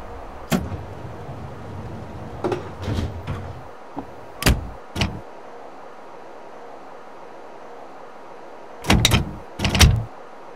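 Chicago Brown Line train doors closing in the Railfan PS3 railway simulation game, several sharp door thuds and bangs in short clusters over a low rumbling train hum, with no talk.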